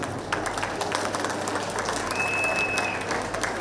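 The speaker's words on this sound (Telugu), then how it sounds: "ఒకసారి భూపతి రాజు గారికి గట్టిగా క్లాప్స్ కొడదాం." Audience at an outdoor rally in Guntur applauds steadily, a dense continuous wash of clapping with some crowd noise, fairly loud throughout.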